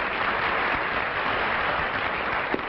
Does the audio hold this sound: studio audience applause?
yes